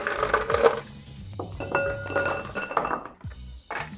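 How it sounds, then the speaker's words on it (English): Ice cubes drop into a cocktail glass for a Royal Gin Spritz, making several close, bright clinks and knocks at irregular moments with no talking. "We're also now going to fill this with ice."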